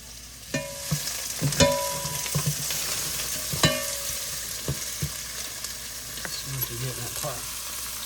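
Vegetables cook in a pot for a chicken dumpling dish, a low sizzle broken by spoon knocks and scrapes against the pot at irregular intervals, close by with no one speaking.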